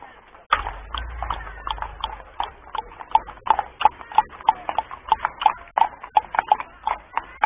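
Horses' hooves clip-clop in a steady, close rhythm at a woodland festival in Montelupo Fiorentino, a run of sharp, evenly spaced strikes that continues throughout after a brief quiet start.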